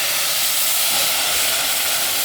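A cup of water hits a hot pan of sugar and semolina for orange halwa, giving a loud, steady, continuous steaming hiss throughout.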